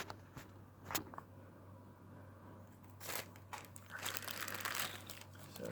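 Plastic bag crinkling close up in bursts as toy die-cast cars are unpacked, sharp rustles at first, then a longer stretch of dense crackling and handling over a low steady hum.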